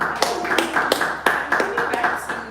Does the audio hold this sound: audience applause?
yes